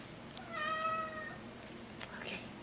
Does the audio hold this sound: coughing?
no